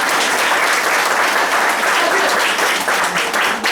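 Loud, dense audience applause fills a poetry festival room, steady and close throughout the few seconds with no pause.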